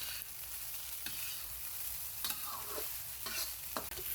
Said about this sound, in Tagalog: Pagkatapos nyan guys, haluin lang natin. Para yung mga pampalasa na nilagay natin is mahalo doon sa ating